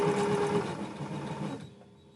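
A sewing machine runs close by, stitching the lining inside fabric handpaws with a steady whirring buzz, then stops and fades into quiet room tone.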